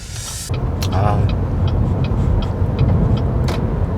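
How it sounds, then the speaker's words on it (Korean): Inside a Chevrolet Malibu 2.0 turbo accelerating along a riverside road, a steady low engine and road rumble swells after a brief cut at the start. A voice may be faintly present, along with scattered soft clicks. "가속 페달을 살짝만 밟아도 차체가 빠르게 속도를 높여갑니다."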